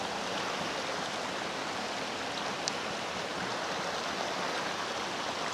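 Spring-fed river water in the Saluysoy river at Bancod, Indang, Cavite, flowing past a sandbagged swimming spot, giving a steady, close, broadband rush that stays even throughout with no voices.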